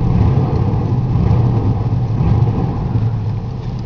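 Close, loud, steady engine rumble as a 1986 Pontiac Parisienne Brougham V8 with a rebuilt four-barrel Quadrajet carburetor is given a short rev, settling back slightly at the end.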